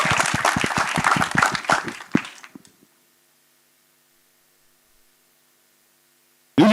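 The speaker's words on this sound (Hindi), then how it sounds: "one of the producers ji studios के सीईओ उमेश बंसल जी के लिए जोरदार तालियां" Audience at a film promotion event breaks into loud, dense applause for about two and a half seconds, then fades quickly into silence before a brief sound returns at the very end.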